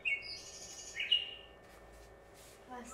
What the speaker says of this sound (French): Il chante très bien, l'oiseau.